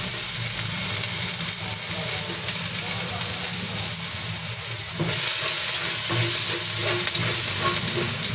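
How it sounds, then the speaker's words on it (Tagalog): Garlic sautés in hot oil with a steady, close sizzle and occasional stirring scrapes, while someone talks over the frying. "At igigisa na natin yung ating bawang."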